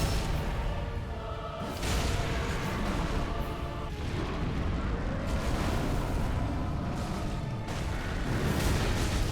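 A laser blast attack roars in Dark Souls 3 during a fists-only boss fight: a dense, continuous booming rumble with rushing bursts that fills the whole stretch, loud and with no voice over it.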